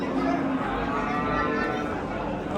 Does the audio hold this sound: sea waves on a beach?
no